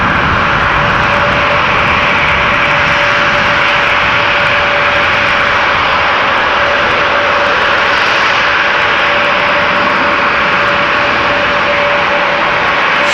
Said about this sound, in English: the bizjet has just taken off from the Schiphol outbound